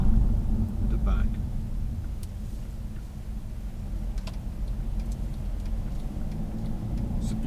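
A Mercedes-Benz E250 CDi BlueEfficiency diesel saloon drives along, its engine and road noise forming a steady low rumble inside the cabin while someone talks over it.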